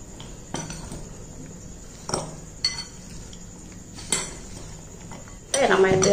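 Vegetables for a weight-loss salad are tossed with a light pinch of salt, producing scattered clinks and scrapes of utensils against a bowl with soft rustling between, growing busier and denser at the end.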